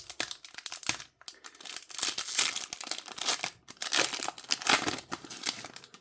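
Pokémon 151 trading card pack being opened, with close crinkling and tearing of the foil wrapper in irregular bursts, quiet and alone.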